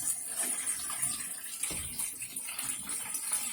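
Water runs steadily from a campervan shower tap, a continuous hissing splash close by with no talking.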